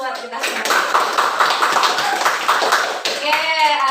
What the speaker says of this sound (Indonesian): Beri tepuk tangan dulu buat kita semua.